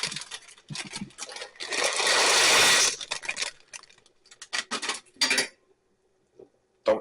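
Mrs. Miller's fine egg noodles are dumped into a soup pot, making a rustling pour of dry noodles that lasts about a second, with light clinks and taps from the pot before and after.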